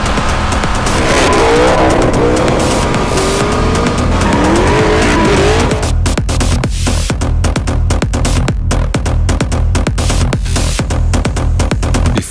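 A Dodge Viper is driven hard at the limit of cornering, its engine roaring loud and continuous with tire squeal, then a rapid run of sharp pulses as it powers on.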